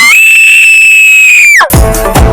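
A woman lets out one long, loud, sustained high scream at a steady pitch, breaking off sharply near the end into a short burst of noisy commotion, on a studio game show set.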